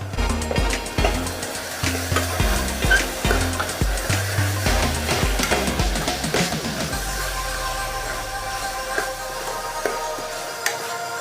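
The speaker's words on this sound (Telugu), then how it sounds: "తర్వాత కొంచెం పచ్చి కొబ్బరి పేస్ట్ వేసి వేయించుకోవాలి." Ginger garlic paste and fresh coconut paste fry for a pressure cooker mutton curry, with close, rhythmic stirring scrapes for several seconds that give way to a steady, even sizzle with no talking.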